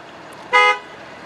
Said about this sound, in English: Nice loud horn.